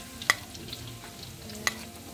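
Garlic and onion sauté in a pan with a soft, steady sizzle, broken by two sharp clinks of a utensil against the pan about a second apart.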